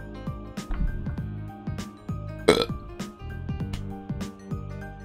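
A man's burp, a drawn-out croaky belch rising from the throat, heard alone without speech, with several gurgling throat noises before and after.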